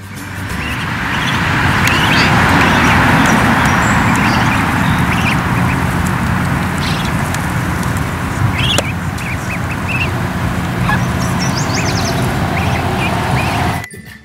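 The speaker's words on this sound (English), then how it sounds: "Now you see and hear juvenile ducks with their mother." Juvenile ducks and their mother quack repeatedly over a dense, steady outdoor background, with some bird chatter mixed in; the sound cuts off abruptly near the end.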